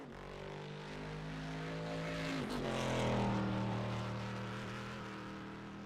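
GT race car engine at Interlagos during a GT Masters three-hour event, a sustained droning engine note that swells as the car passes closest midway, then fades, heard at a moderate distance with shifting pitch.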